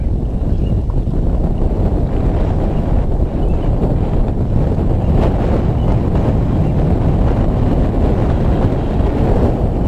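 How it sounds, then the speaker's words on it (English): Heavy wind buffets the microphone in a steady, loud roar throughout a bass fishing outing on the water, a dense low rumble with no clear speech. "fish on, guys, in this heavy, heavy wind"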